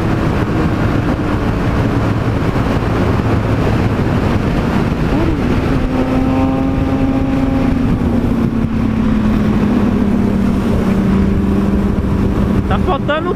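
A Yamaha XT660 rides alongside sport motorcycles on a road toward São Roque, engines droning loudly with rising and shifting tones under heavy wind buffeting, with voices talking intermittently.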